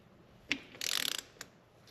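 A ratchet wrench tightens 8 mm bolts to 10 Nm on a 2023 KTM 450 SX-F Factory Edition dirt bike during an oil change. A single sharp click is followed by a quick, close burst of rapid ratcheting, then one more click, all in a quiet setting.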